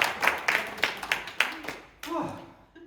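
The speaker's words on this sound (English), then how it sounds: "And please applaud yourselves for" An audience claps in a community theatre show for older people, a run of sharp, fairly loud claps in a steady rhythm that fade out as a voice starts talking.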